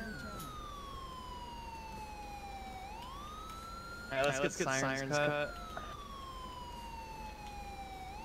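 A police car siren from the FivePD video game wails in long smooth sweeps, with a short burst of rapid yelping tones midway. The siren stays steady and clear, and a single word is spoken over it.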